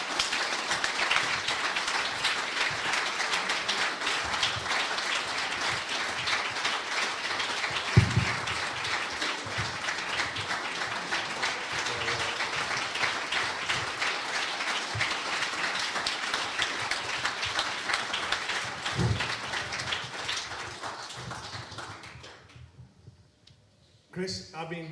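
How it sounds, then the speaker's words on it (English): A fans' forum audience in a working men's club breaks into sustained applause, dense clapping from many people that holds steady for about twenty seconds before tapering off, with a few louder thumps and brief talk at the end. "I want you to give him a massive round of applause"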